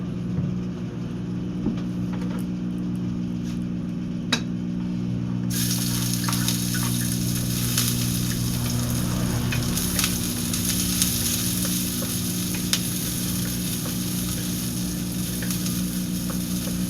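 Chicken sautéing in annatto oil for Filipino Valenciana, a steady loud sizzle and crackle that grows brighter partway through, with occasional utensil clicks and a low mechanical hum underneath.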